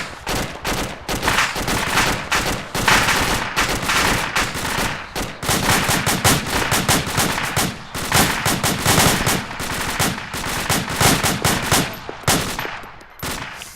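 Sustained gunfire during a close contact drill with incoming fire from the north: dense, loud volleys of rapid shots and bursts run nearly continuously for the whole stretch, with only brief lulls between strings of reports.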